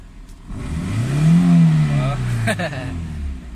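A Toyota Corolla engine, just repaired after its tachometer and speedometer gauge fault, revs up hard toward redline, a loud rising mechanical drone that peaks mid-clip, then eases back down as a short knock sounds near the end.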